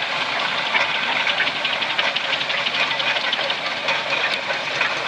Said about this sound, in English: Lovely engine. 100 years old this year.